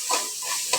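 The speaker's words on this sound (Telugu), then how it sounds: "మళ్ళీ ఒకసారి మొత్తం కలిసేలా" A spatula scrapes and stirs vegetable masala curry in a frying pan after ginger paste is added, with three short scraping strokes over a steady sizzle, close and moderately loud.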